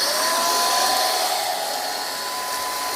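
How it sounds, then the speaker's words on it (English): A MBYULO 600W cordless vacuum cleaner starts up and runs with a steady, loud high-pitched whine and airy rush, constant throughout with no talking over it. "so it's gonna start up the vacuum."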